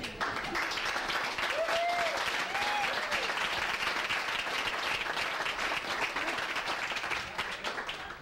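Sustained applause from an audience, a dense steady wash of clapping that fades slightly at the end, with a few faint voices in it.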